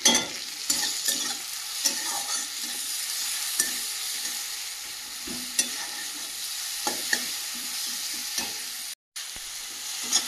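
Tomatoes fry in a pan with turmeric and salt, a steady close sizzle broken by repeated scraping stirs of a spatula, with no talking.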